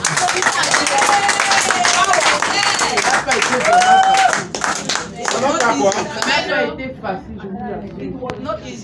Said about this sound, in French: Il faut applaudir à Dieu.